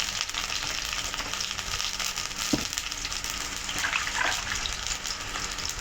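Native desi chicken cooks in hot oil with onion, ginger, garlic and potatoes, sizzling steadily up close, with a few faint stirring clinks and no talking.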